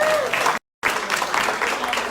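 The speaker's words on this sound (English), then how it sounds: "Give yourself a round of applause." Steady audience applause fills the room, dense clapping with a brief cut to silence partway through, then the clapping resumes.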